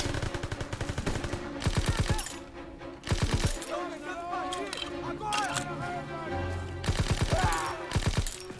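German gun firing in Call of Duty WWII, rapid automatic bursts in repeated rhythmic volleys, loud and close, with game voices and battle noise between bursts.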